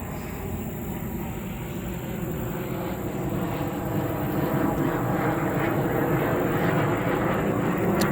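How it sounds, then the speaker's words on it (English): A loud, continuous roar of a jet aircraft flying overhead fills the scene, steady and droning with a faint whine on top, gradually swelling slightly. "Okay, so now that jet's gone,"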